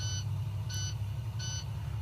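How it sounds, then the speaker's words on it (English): Low air pressure warning buzzer on a bus at startup, three evenly spaced short electronic beeps over a steady low engine hum, no talk. "your low air warning light and buzzer should be seen and heard on startup until the air pressure builds to 60 pounds per square inch"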